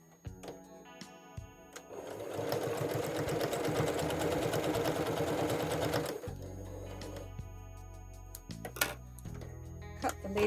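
Sewing machine stitching a log cabin mug rug seam, starting after a few clicks and handling sounds, running steadily for about four seconds up close, then stopping, followed by light clicks and fabric handling.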